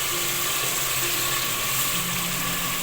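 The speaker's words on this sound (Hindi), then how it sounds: "अब हम इसमें 1 गिलास पानी डालेंगे।" Masala frying in a pan for an aloo methi dish hisses in a steady, loud, continuous sizzle as about one and a half cups of water is poured in, with no talking.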